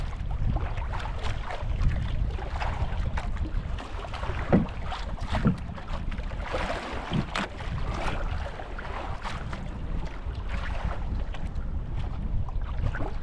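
Continuous roar of strong wind buffeting the microphone, with waves slapping and splashing around a small fishing boat, steady and loud throughout.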